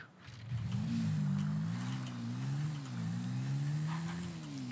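A car engine drones steadily in a Cyberpunk 2077 scene, its pitch rising and dipping in smooth waves as if revving and shifting, loud and continuous throughout with no talk.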